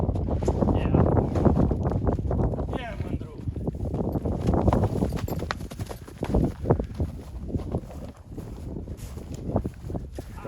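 Horse hooves clip-clop steadily at a walk on an outdoor farm in Ukraine, with a donkey following behind, moderately close amid wind noise, while people talk over the footsteps throughout.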